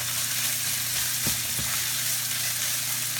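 Onions frying for fajitas give a steady, even sizzle in a hot pan, heard close and alone with a couple of faint knocks from the pan midway.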